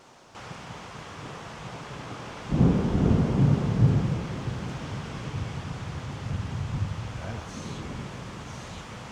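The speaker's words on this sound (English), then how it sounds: "We're gonna get a storm over here, Carrie." Mountain thunderstorm at a truck campsite in Arizona's White Mountains: steady rain and wind hiss, then a loud, deep thunder rumble rolls in and slowly fades back into the ongoing wash of wind, with no voices.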